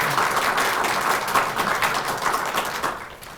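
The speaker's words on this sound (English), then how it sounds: "It's always good you clap at the beginning." Audience applause welcoming a speaker to the Ford Library stage, a steady dense clapping that fills the room for a few seconds before thinning out toward the end.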